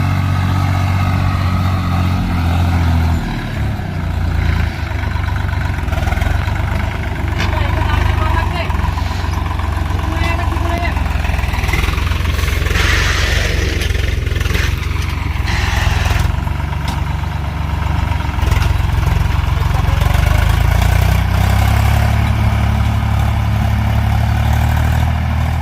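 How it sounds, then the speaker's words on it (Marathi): A farm tractor engine runs steadily in a field during soybean sowing, a loud, continuous low drone that holds throughout while someone talks over it nearby. "झालं आहे आमचं ट्रॅक्टर चालू आता"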